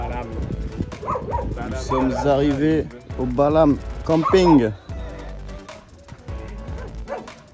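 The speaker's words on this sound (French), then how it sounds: "Oh, les petits chiens." Small dogs at a campsite on Holbox island yip and bark in short, high bursts, mixed in with and partly under someone talking close by.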